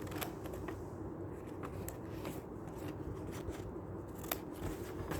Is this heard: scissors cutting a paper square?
yes